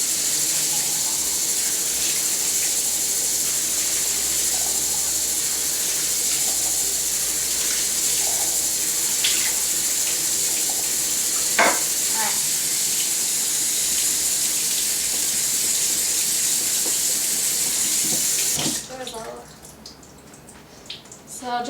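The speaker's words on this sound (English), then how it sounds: "So I'm just going to rinse those off, get all that juice off" Drained canned black beans are rinsed under a running kitchen tap, a steady close hiss of flowing water that continues for about nineteen seconds before stopping, followed by a few soft handling sounds.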